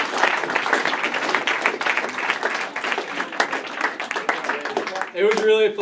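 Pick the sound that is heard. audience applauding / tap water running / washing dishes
audience applauding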